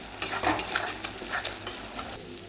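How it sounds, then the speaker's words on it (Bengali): Salted spice masala for a tengra fish curry being stirred in a pan, quick repeated scraping strokes of a spatula over a low sizzle, close and alone. "এবার দিয়ে দেবো স্বাদ মতো লবণ, দিয়ে ভালো করে কষিয়ে নেব মশলাটা"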